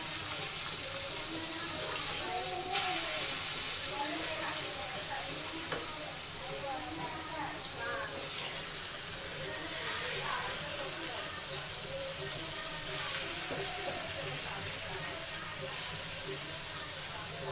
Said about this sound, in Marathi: आता आपण दुसऱ्या साईडनं फ्राय करणार.